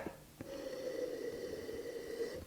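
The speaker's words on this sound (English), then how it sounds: "Let's sniff." Nasal sniffing of a co-fermented Argentine Malbec-based wine, Oír Ese Río, from Mendoza, one short intake then a longer steady draw, close and quiet.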